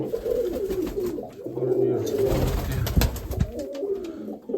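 Mykolaiv breed pigeons coo in low, throaty, repeated calls, close by, with rustling, fluttering and faint human voices mixed in.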